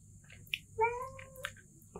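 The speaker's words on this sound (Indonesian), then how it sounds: "ada kucing satu lagi yang baru ketemu beberapa hari lalu." A cat gives a single clear, close meow midway through, with a few faint clicks and a low steady hum in the background.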